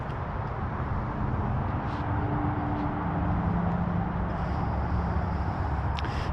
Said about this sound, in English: And you can hear the highway in the background.